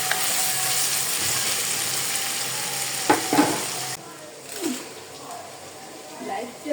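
Potatoes fry in a pan for a Bengali fish curry, giving a loud, continuous sizzle with a few brief stirring scrapes, then settling into quieter frying.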